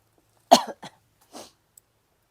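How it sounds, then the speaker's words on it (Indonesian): A single sharp cough from a person, followed by a couple of softer throat sounds, close and fairly quiet with no talking over it. "Aduh batuk."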